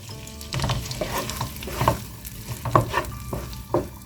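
Chopped onion is stirred in melted butter in a pot, giving a soft sizzle with repeated scraping and clinking stirs of a utensil against the pot, close up and without talk.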